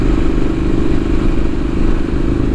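A Triumph Street Scrambler motorcycle on a Sunday ride, its engine a loud continuous low rumble with steady throbbing and wind noise and no speech.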